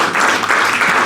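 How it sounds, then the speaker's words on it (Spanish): A steady wash of applause from a church congregation, dense and loud, continuing without a break. "Regálele un aplauso, Señor."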